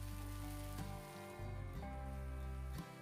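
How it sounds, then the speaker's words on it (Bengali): Onion, ginger and tomato paste masala frying in oil in a pan, a steady close sizzle broken by a few stirring scrapes, with no talk. "এবার সমস্ত কিছু ভালোভাবে মিশিয়ে নিয়ে মশলাটা 5 মিনিট মতো কষিয়ে নিতে হবে।"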